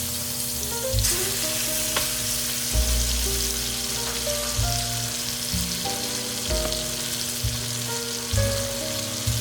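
A grilled cheese sandwich, made with mayonnaise, fries in a pan with a steady close sizzle and crackle, and a few soft knocks and scrapes are heard as it is moved around.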